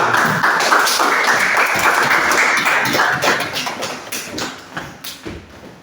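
Group of people clapping in a classroom session, a dense burst of applause that fades into scattered, uneven claps toward the end.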